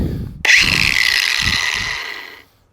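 An angle grinder fitted with a flap wheel spins up suddenly and whines loudly for about two seconds while grinding a Razor MX650 battery tray, then winds down.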